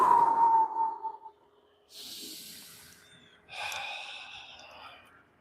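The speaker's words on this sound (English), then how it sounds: "just some controlled breathing" Slow, controlled human breathing: a long exhale at the start, then two separate airy breaths with pauses between them, close and quiet, with no talking.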